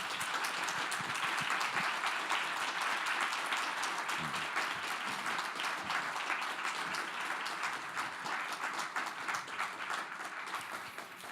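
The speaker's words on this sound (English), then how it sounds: "So please give Lara and also Brigitte a big applause." Audience at a masterclass event applauds two speakers, a long, steady wash of many hands clapping at moderate loudness, holding evenly and thinning slightly toward the end.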